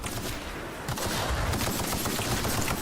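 Rifle fire in the video game The Outer Worlds, a dense rapid burst of electric zapping shots that runs continuously and loud.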